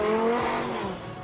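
A Lamborghini accelerates hard, a loud strained engine whine sliding in pitch with tyre squeal mixed in, close and continuous for a brief burst.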